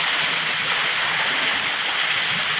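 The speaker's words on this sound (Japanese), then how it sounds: "5m 滝、" A 5 m waterfall in a mountain stream gorge pours with a steady, full rushing roar, close and continuous with no pauses or voices.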